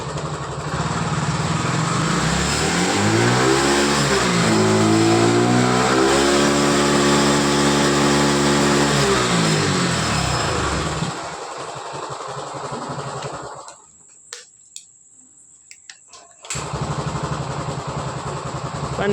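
A TVS XL 100 BS6 moped engine with a fuel pump fault, its injector just cleaned, runs close and loud, revving up and down in a rising and falling whine before shutting off into near silence with a few small clicks.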